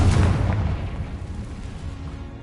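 Bombarda and Confringo spells explode in the Hogwarts Legacy video game. A single deep, rumbling boom hits loudly at the start and then slowly fades away.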